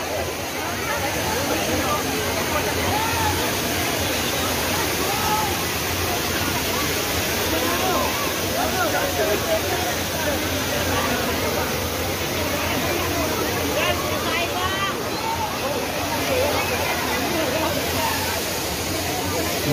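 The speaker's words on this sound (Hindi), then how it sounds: "यहाँ पे इतना शोर है कुछ सुनाई भी नहीं दे रहा है, पानी का इतना शोर है।" Loud rushing water roars continuously at the Sahastradhara falls in Dehradun, a dense, close wash of spray and flow, with people talking faintly underneath it.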